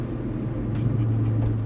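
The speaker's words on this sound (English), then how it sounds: "And the sound coming out the exhaust is phenomenal." A VR6 2.8 engine rumbles steadily through its exhaust at just over 2,000 revs while the car is driven through town, with a low, even drone and a slight rise in pitch partway through.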